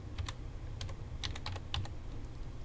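Light, quick taps on a computer keyboard while entering values in a CAD program, a few short bursts of keystrokes, close but quiet over a steady background hum.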